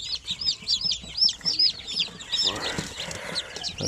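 Newly hatched chicks give a chorus of rapid, high peeps close by, overlapping in quick bursts with some rustling and a brief voice in the background.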